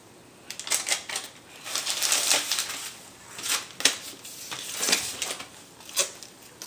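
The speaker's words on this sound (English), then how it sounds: "That pretty wrapping paper." A small child tears open gift wrapping paper indoors, with repeated crisp rustling and ripping bursts in an irregular rhythm, close and moderately loud, without talk.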